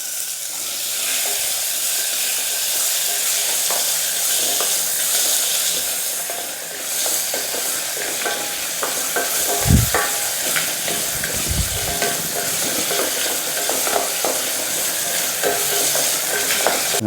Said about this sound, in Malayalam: ജസ്റ്റ് ഒന്ന് മൂപ്പതിന് ശേഷം നമുക്കിതിനകത്ത് തക്കാളി ഇട്ട് കൊടുക്കാം.